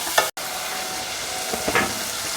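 Chilli powder frying in hot oil for a dry fish gravy gives a steady, loud sizzle throughout, with a couple of brief stirring scrapes and one short dropout near the start.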